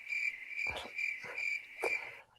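Crickets chirping as a sound effect, a steady high trill that runs throughout, close and clear, with a few soft low bumps mixed in.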